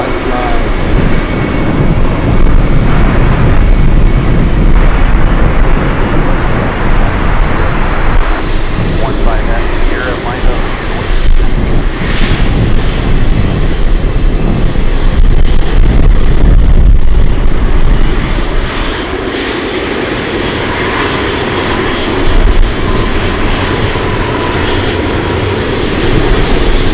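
A Boeing 777 on the Sierra taxiway at Anchorage airport roars with jet engines, a loud, sustained broadband rumble that swells and holds for the whole stretch, with gusty wind mixed in.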